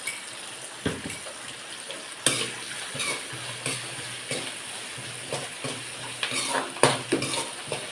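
Ginger and garlic paste sizzles and fries in a large pan, with repeated scraping stirs and clinks of a spoon against the metal at fairly regular intervals, close and moderately loud.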